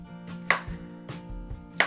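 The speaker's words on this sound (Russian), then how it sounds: "Режем крупно картофель произвольными кусочками." A knife chops potatoes into large chunks on a cutting board, with two or three sharp, close knocks spaced apart over a low steady kitchen hum.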